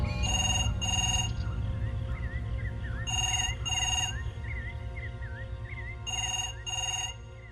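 Telephone ringing in the early hours of the morning: a loud electronic ring in paired bursts, repeating three times, with a warbling tone sounding between rings over a low steady hum.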